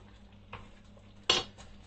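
A utensil scrapes and clinks against a pot while food is stirred, two distinct metallic knocks, the second louder, over a quiet kitchen background.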